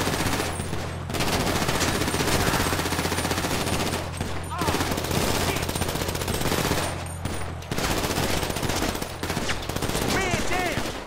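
Sustained automatic gunfire in the GTA 5 video game during a Purge-themed street battle, dense continuous bursts with brief pauses between them, loud and close throughout.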